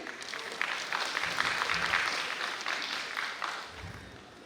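Audience applause welcoming a guest at a women's participation program in Ranchi, Jharkhand, a moderate, somewhat distant wash of clapping from a hall crowd that swells then gradually fades.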